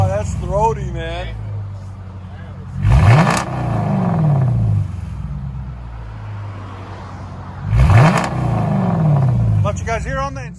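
A Dodge Charger R/T with a 5.7L HEMI V8 and aftermarket exhaust, blipped twice in a row for two sharp, loud revs that rise and fall over a steady deep idle burble, with someone talking at the start and end.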